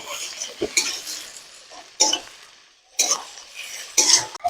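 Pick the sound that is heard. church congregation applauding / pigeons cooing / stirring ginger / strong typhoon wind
stirring ginger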